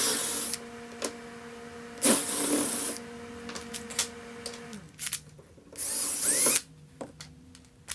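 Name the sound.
drilling a recess hole in a wood block with a spade bit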